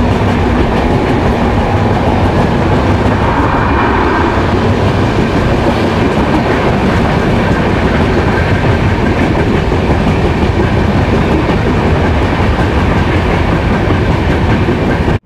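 The Shipra Express, running Indore to Howrah, races at high speed, heard from inside an AC coach as a loud, steady rumbling roar with rapid wheel clatter continuing unbroken throughout, with no talking.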